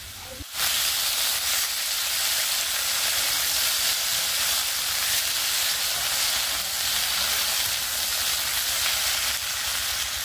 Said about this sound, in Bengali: তারপরে দিয়ে দিলাম ধুয়ে রাখা সবজিটা, পটল আর হচ্ছে আলু